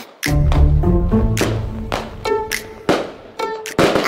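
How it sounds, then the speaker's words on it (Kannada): Sharp firecracker bangs go off at irregular intervals, half a dozen loud cracks, each followed by ringing tones that fade before the next burst. "ಅಲ್ಲೂ ಪಟಾಕಿ ಹೊಡಿತಿದ್ದಾರೆ"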